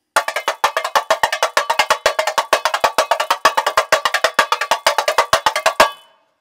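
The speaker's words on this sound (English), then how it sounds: "this is a short tutorial about the tamborim, how you can play samba" A tamborim plays a samba rhythm, sharp bright strikes in a quick, steady syncopated pattern, close and loud for about six seconds before stopping.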